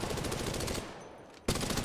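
Shotgun fire in the video game Apex Legends, a rapid burst of loud shots that stops abruptly, a brief pause, then another loud burst, with no talk.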